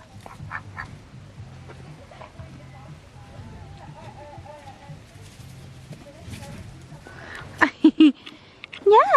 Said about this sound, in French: c'est le petit canard